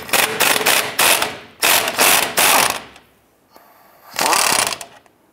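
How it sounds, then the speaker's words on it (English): Ratchet wrench with a 24 mm socket loosening a front lower control arm nut on a 2002-2008 Dodge Ram 1500, loud close rapid clicking in three bursts separated by short pauses. "Gonna use our 24 millimeter wrench here."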